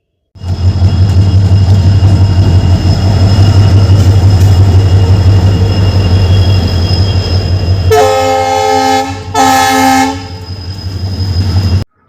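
A Howrah–Panskura local passenger train rumbles loudly past at close range, with a steady low roar, and its horn sounds in two brief blasts near the end.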